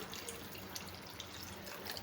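Tamarind water poured into a cooking pot while making a small onion dish, a faint, continuous splashing trickle with no voices over it.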